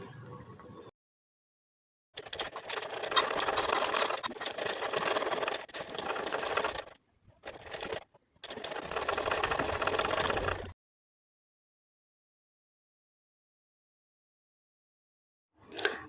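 A sewing machine stitches the sleeve hem of a kurti in two long runs of steady mechanical whirring with a short break between them, fairly close, followed by silence and a faint click at the end.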